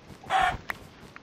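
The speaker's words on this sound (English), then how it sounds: "you can still one hit kill a chicken" A chicken in a Minecraft game gives a single short cluck, followed by two faint, quick hit sounds.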